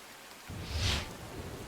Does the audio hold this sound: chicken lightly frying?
no